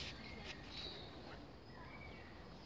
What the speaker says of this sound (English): listen to the wonderful bird song